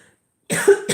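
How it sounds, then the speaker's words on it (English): A person coughs once, close and fairly loud, a short harsh burst following a brief silence, with no talk over it. "coughing now"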